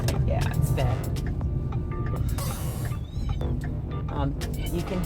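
A cat, among a household with kittens, meows several times in short rising cries, close by, while people talk over and between the calls.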